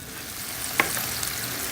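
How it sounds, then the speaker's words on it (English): Avocado oil sizzles steadily in a pan with a soft crackling hiss, punctuated by a couple of brief sharp pops. "You're going to let this sizzle up, come to a sizzle"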